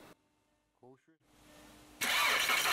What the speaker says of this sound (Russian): Далее заводим мотор